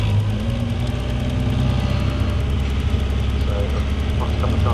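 A field of 34 Caterham Seven 310R race cars at Snetterton, engines rumbling and revving loudly together on the grid ahead of a race restart, with a commentator talking over the dense, continuous engine noise throughout.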